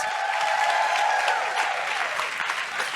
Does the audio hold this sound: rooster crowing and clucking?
no